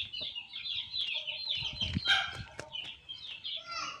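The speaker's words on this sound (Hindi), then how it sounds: "जहाँ पे ये मुर्गा क्रीज़ में था, अपने पर वगैरह झाड़ रहा था" An Aseel rooster clucks and chirps repeatedly at close range while its wings flap and rustle in short bursts, with other birds calling faintly in the background.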